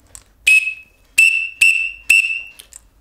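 A carnival conductor's whistle from the Tiro-Queijo street carnival band in Belo Horizonte gives four sharp, shrill blasts, close and loud, with short gaps between them.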